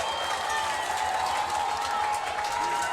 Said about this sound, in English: Crowd is excited, but no, offside flag is up.